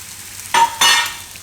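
Two quick scraping strokes of a spoon through besan bhurji frying in a pan, each a short loud swish over a low sizzle, close up with no voices.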